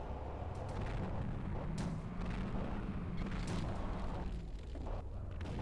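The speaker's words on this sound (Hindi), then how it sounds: "गाइज गोली भी चला रहे हैं" Gunfire in the mobile shooter Free Fire, including a double-barrel gun: dense, continuous booming blasts that run steadily throughout, loud and sustained with no talking.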